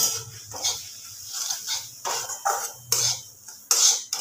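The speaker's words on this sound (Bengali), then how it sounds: "গ্যাসটা কম করে সুজিটাকে আমি ভেজে নেব।" Half a cup of semolina stirred in hot oil in a pan over low gas, giving repeated scraping and clinking strokes of a utensil against the pan, close and moderately loud.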